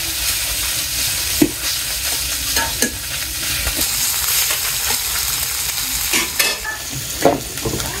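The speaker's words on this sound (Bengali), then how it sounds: "তেলের মধ্যে মাছ দিয়ে দিলাম মাছটি মিশি দিয়ে ভাজিব" Fish fries in hot oil in a home kitchen, a close continuous sizzle broken by several sharp scraping stirs and pops spread through the clip, with no talking.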